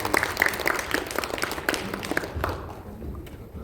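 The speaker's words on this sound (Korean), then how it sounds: "큰 박수로 맞아주시면 감사하겠습니다." At a forum on gender equality, an audience gives a warm round of applause to welcome the city council chairman, a dense close clapping that thins and fades toward the end.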